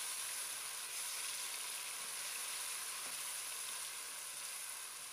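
A steady, faint sizzle of garlic and ginger paste frying in a hot pan for beef yakhni pulao, continuous hissing crackle with no talk.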